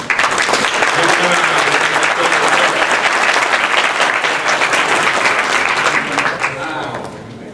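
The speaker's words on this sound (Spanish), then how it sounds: "Si no, pues vamos a darle un fuerte aplauso." A conference audience at a healthcare IT executive summit breaks into loud, sustained applause for a guest speaker, steady and full for several seconds before tapering off at the end.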